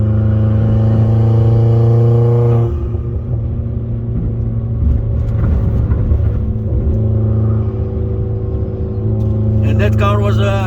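Opel Astra H 2.0 turbo OPC, Nürburgring Edition, accelerating hard from inside the car: a loud steady engine drone with strong low harmonics that shifts to a rough rumble, then builds again, with no one talking.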